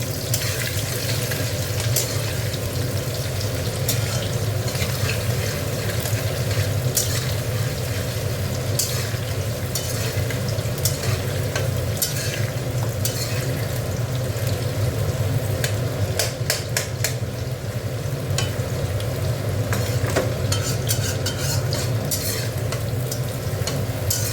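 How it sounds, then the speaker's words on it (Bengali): Onions frying in oil in a pan with a steady, dense sizzle and occasional stirring scrapes, close and continuous with no talk. "পেঁয়াজটা একটু ভাজা ভাজা হোক।"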